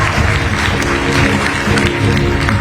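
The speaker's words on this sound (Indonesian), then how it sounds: "Biasa tepuk tangan buat Universitas Padjadjaran." Broad crowd applause at a university talk show held at Universitas Padjadjaran, loud and continuous with heavy low rumble from the hall, no clear speech on top.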